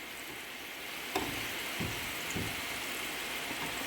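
Lobster sizzling in a pan on low heat, a steady soft hiss with a few faint pops and crackles, close by, no talking.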